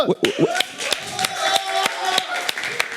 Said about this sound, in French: Est-ce que nous pouvons les applaudir bien fort, mesdames et messieurs?